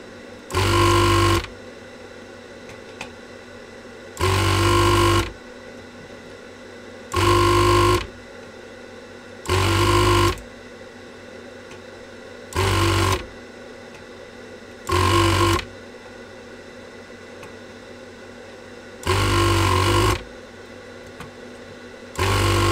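A spring-loaded desoldering pump clears old solder from the holes of a retro chip socket on a circuit board, giving eight loud, even bursts of whirring mechanical noise, each about a second long, spaced a few seconds apart over a steady low hum.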